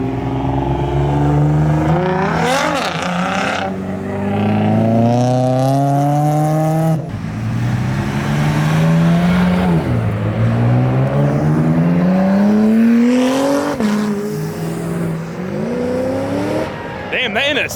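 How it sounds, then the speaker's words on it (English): Acura NSX sports car accelerating past near a street gathering of muscle cars and supercars, loud engine revs climbing through several gear changes with rising pitch sweeps, close and dominant, with people talking and cheering underneath. "Damn, that NSX sounded good."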